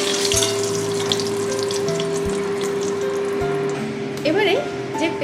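Cinnamon, cloves, cardamom, a dry chilli and bay leaves fry in hot oil with a steady sizzle, a low hum beneath and a few soft bumps, with a brief light clatter near the end.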